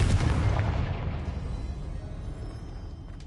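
The Confringo explosion spell goes off in the Hogwarts video game as a single deep boom that rumbles and fades slowly over a few seconds.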